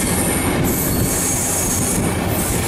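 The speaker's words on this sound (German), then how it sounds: "Sobald der Zug den Deichdurchlass passiert hat, durchfährt er den Bahnhof Dagebüllhafen" A train passes through an opening in a dike toward Dagebüll harbour, a steady, loud roar of wheels on rails with high metallic squealing all the way through. It is heard close up, with no voices.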